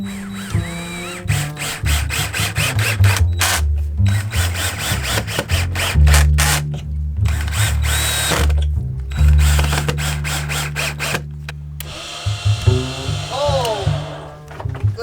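A power drill bores into a fiberglass boat hull in close, loud bursts of whirring and grinding, with pitch rising and falling as the trigger is squeezed and released between short pauses.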